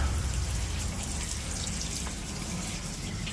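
Vinegar streams into a pot of lechon paksiw, a steady close gushing pour with a continuous broadband hiss that holds level throughout.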